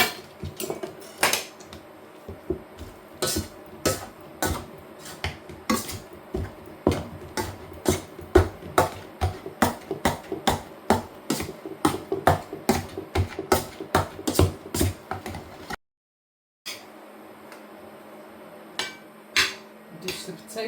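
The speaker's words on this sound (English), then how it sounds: "It's time to give them a good smash with some butter." Repeated clinking and knocking of a utensil mashing boiled potatoes with butter in a pot, an irregular run of close, sharp taps for about fifteen seconds, a brief pause, then a few more.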